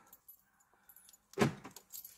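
An Audi A1 8X being locked from inside the car: a near, sharp mechanical clunk of the central locking, with faint rattling clicks before and after.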